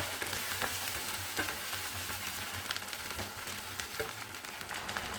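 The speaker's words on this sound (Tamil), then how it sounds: "இப்போ பிரண்டையை சேர்த்து வதக்கிக்கலாம்." Pirandai and tomato sauté in a pan, giving a steady, close sizzle of frying broken by soft scraping stirs, with no talking.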